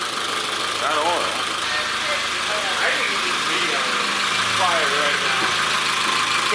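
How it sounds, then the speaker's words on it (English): An old, neglected 30-year-old Nissan idles with a massive exhaust leak, giving a steady, rough, raspy drone throughout, while people talk nearby. "you got massive exhaust leak"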